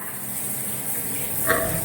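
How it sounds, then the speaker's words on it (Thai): Strong flow of water from a campsite shower with a water heater in Kanchanaburi, a brief, steady hiss of gushing water heard close up, with no talking. "น้ำไหลแรงไหมเดี๋ยวเราเปิดให้ดู เนี่ยค่ะ น้ำไหลแรงค่ะ"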